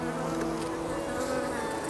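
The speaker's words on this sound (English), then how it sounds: "I keep bees in my orchard to make sure that our crops are well pollinated in the springtime" Honeybees kept in an apple orchard hum steadily and close, a dense unbroken drone of many wings at an even level, with no voices.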